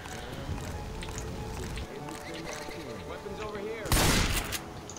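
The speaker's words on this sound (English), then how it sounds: "aim and shoot" Rapid bursts of gunfire from weapons in the zombie shooter video game Left 4 Dead 2, running steadily under players' voices with a louder, sharper volley near the end.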